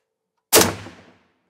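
A single sharp gunshot from a soft-shooting handload fired over a chronograph, close and loud, with a short decaying tail and silence before and after.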